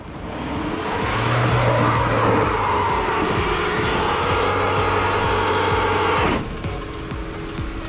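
Jeep Renegade 4xe Trailhawk engine running steadily and loud while climbing a steep off-road slope, a tonal hum under broadband roar, then dropping abruptly near the end as the vehicle stalls on the incline.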